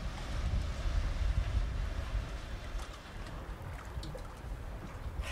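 Big ocean waves rolling at a Danish shore in Fårevejle, a steady low broadband wash with strong wind buffeting the microphone throughout, loudest in the first seconds and easing slightly after.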